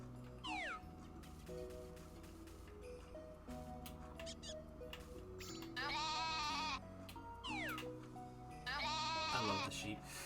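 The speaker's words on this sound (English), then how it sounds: "I love the sheep." Sheep in the Stardew Valley farming game bleat in a couple of bright wavering calls over steady background music, with a few smaller cute animal squeaks scattered between them.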